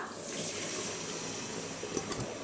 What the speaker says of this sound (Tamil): இப்போ அந்த புளி தண்ணியை சேர்த்துடலாம்.